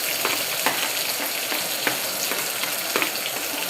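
Chopped onions frying in a hot pan for upma in a home kitchen, a steady sizzle broken by regular sharp scrapes and clinks as a spoon stirs them, close and fairly loud.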